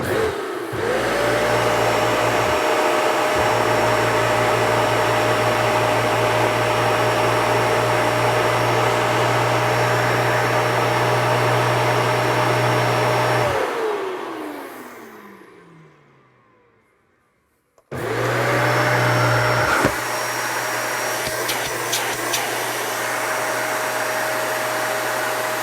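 A Dyson Ball 2 Animal UP40 vacuum cleaner's main motor whines at a steady high pitch, winds down to silence, then spins back up and runs loudly again.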